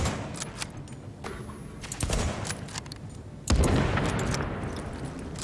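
Weapon fire in the shooter game The Division, with rapid bursts of gunshots and sharp blasts rolling over a busy background, loud and close, the heaviest burst hitting past the midpoint.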